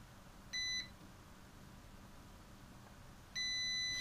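Two short, clean electronic beeps from a multimeter set to ohms for a continuity test on a connector pin of a DIY trainer cable for a Flysky FS-i6 transmitter, one early and one near the end, against a quiet room.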